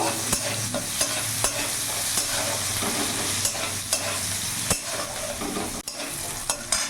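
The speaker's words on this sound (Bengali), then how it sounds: "পেঁয়াজটা একটু ভাজা ভাজা করে নেব।" Onion frying in oil in a pan, a close, even hiss of sizzling with regular scraping strokes and light taps of a stirring spoon running steadily through the whole stretch, no speech.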